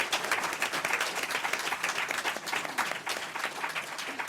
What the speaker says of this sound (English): could everyone please give a big round of applause to Jonathan, Ayaz, Anne-Marie, Mariam